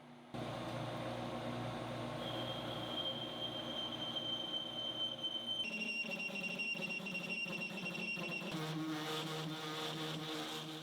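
A wide milling cutter chatters hard against stainless steel, a loud, continuous metallic screech with sustained high whining tones that shift in pitch partway through, heard alone without talk.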